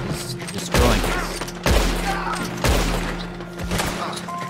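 Gunfire during a Red Dead Redemption 2 Online Showdown Series team match: three loud, sharp shots about a second apart ring out over steady game background noise.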